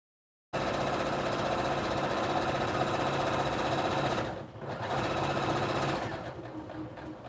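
Sewing machine stitching with a steady, loud mechanical whir, briefly pausing about midway and then running again, with the presser foot adjusted on the machine.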